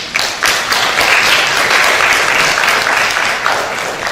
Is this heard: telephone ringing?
no